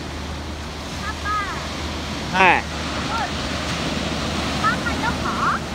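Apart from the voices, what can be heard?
ocean waves breaking at Kamakura beach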